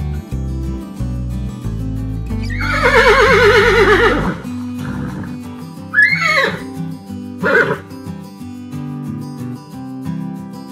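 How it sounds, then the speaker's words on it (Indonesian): A horse gives a loud, drawn-out whinny over light background music, followed a few seconds later by two shorter snorting calls. "Hewan ini namanya kuda."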